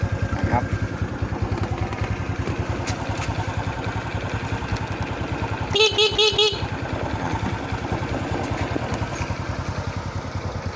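A motorcycle engine runs smoothly and quietly at idle, with a steady low putter throughout and a short double horn toot midway, while someone speaks over it.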